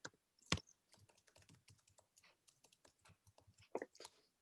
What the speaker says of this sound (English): I just type here.